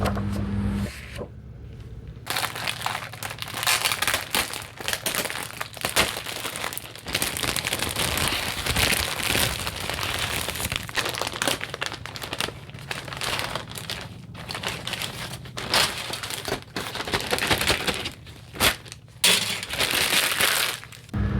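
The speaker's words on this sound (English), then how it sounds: "Now that we're done with all the bag crinkling" Plastic bags from a 1/48 Eduard I-16 model kit crinkle and rustle continuously at close range, with dense crackling handling sounds and brief pauses, no voices.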